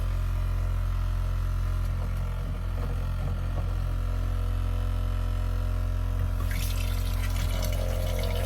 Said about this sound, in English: open the faucet for a while to let air and water circulate through